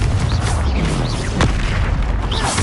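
Spell explosions from Hogwarts Legacy: loud, dense in-game booms and bursts fill the stretch, with a strong low-end rumble throughout and sharper blasts layered on top.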